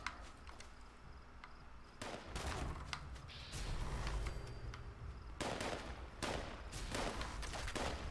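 Gunfire in Fallout 76 sounds in sharp bursts and volleys, with a louder, denser stretch of shots through the middle and end, fairly close and with no talking.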